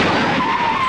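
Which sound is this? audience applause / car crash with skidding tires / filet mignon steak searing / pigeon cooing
car crash with skidding tires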